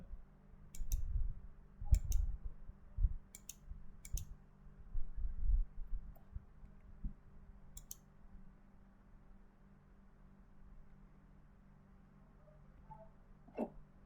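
Computer mouse clicks while working in CAD software, a handful of sharp, isolated clicks spaced a second or two apart over a low hum, close and quiet with no speech.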